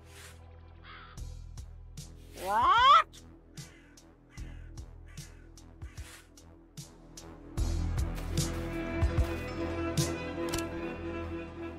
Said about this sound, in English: Do you have any tips, bird?